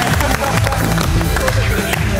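A studio audience claps and cheers to welcome a contestant onto a cooking competition show, gourmets against restaurateurs. The applause is dense, loud and continuous, with crowd noise and a voice mixed in.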